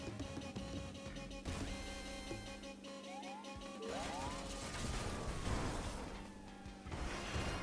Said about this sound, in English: that's the cement mixer.